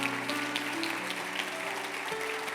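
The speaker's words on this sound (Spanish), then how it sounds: "Dale un fuerte aplauso a nuestro Dios en su casa." A church congregation claps in a steady, dense burst of applause, moderately loud and continuous for a couple of seconds, with a faint sustained organ or keyboard tone underneath.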